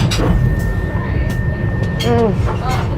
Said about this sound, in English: This train journey is currently rivaling